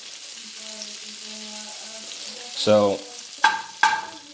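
Butter melts in a hot pan with a low, steady sizzle, then a louder burst of frying and two sharp clinks of a utensil against the pan; a voice speaks briefly.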